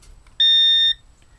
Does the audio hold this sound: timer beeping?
yes